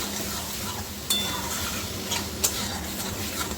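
Fried cauliflower and long beans are sautéed in spice paste, giving a soft, continuous sizzle with occasional spatula scrapes and light ticks against the pan.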